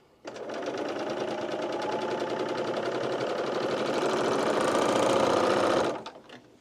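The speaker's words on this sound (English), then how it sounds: "we're going to go ahead and pop this into your sewing machine or your serger, and we're just going to sew straight down that short side." A coverstitch machine sews binding straight down a short side in one steady, fast mechanical run of about six seconds, loud and close, starting abruptly and stopping with a short tail-off.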